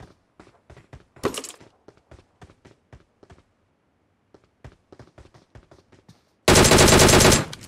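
Gunfire from PUBG Mobile rings out as a run of single sharp shots with gaps between them, then a loud sustained automatic burst near the end, close and punchy.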